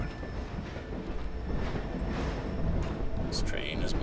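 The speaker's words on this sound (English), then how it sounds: "This train is moving, and we're stopping here." Moving train inside the video game Half-Life 2, a steady low rumbling roll of the railcar heard throughout under speaking voices.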